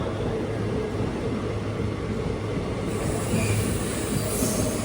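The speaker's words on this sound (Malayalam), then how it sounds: "6:12 ട്രെയിൻ ഇതാ നീലേശ്വരം റെയിൽവേ സ്റ്റേഷനിലേക്ക് എത്തുകയാണ്" A train pulling into Nileshwaram railway station on the Rameswaram–Mangaluru Express route, a continuous heavy rumble of rolling wheels and carriages with a faint high squeal toward the end, close and steady with no talking.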